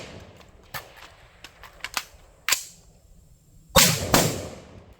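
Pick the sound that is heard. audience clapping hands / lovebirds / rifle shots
rifle shots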